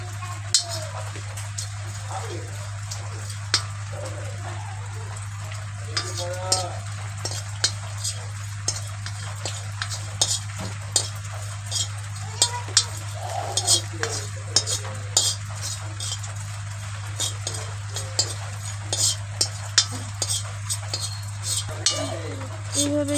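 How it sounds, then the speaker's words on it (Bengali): Whole cumin seeds are dry-roasted in a kadai and stirred with repeated scraping and clinking strokes of a spatula against the metal. The stirring is irregular, set against a steady low hum, with a voice heard now and then. "এই গোটা জিরেগুলোকে আমি ভালো করে একটু কড়াইতে নেড়ে চেড়ে ভেজে নেব।"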